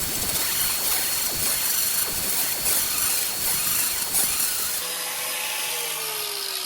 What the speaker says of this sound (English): just grab your grinder and your wheel, hold it on the edge, and just grind off the edge like that